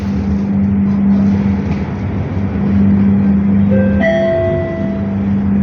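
A light rail train on the LRT Jabodebek line in Indonesia rumbles steadily on the tracks, then brakes with rising squeals and screeches as it slows into Jatimulya station, with a low hum throughout.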